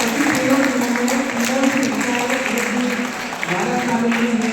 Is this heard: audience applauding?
yes